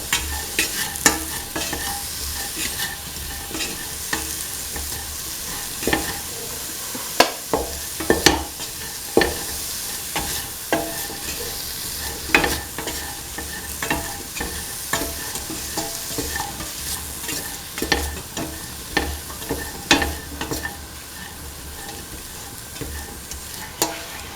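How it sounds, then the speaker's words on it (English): A spoon stirs a mung bean and ivy gourd mixture in a pan with salt added, making steady scraping and clinking strokes over a soft continuous sizzle, close and fairly loud, with no voices. "mix thoroughly, mix in the salt with the rest of the mixture"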